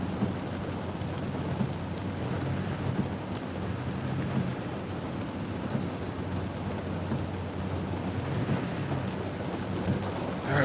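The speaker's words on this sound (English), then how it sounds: "we got some heavy rain starting here." Heavy rain pours steadily during a thunderstorm, with low rolling thunder rumbling beneath the constant downpour and no voices present.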